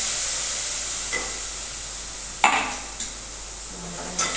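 A spoon stirs okra curry with red garlic chutney in a hot pan, soft scraping and sizzling with a few sharper clinks of utensil against the pan.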